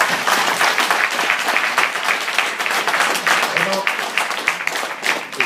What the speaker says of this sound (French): Аплодисменты, пожалуйста.